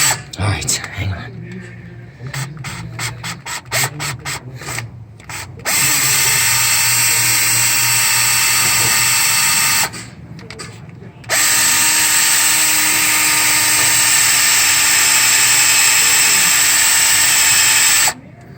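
Power drill boring into 6.7 EGR bolts, a stuttering run of short bursts followed by long, loud sustained drilling with one brief pause, close up.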